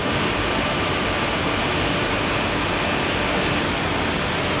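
Water rushes steadily through the lock of the Roman 1 micro hydropower plant, a loud, continuous, broadband roar with no talking over it.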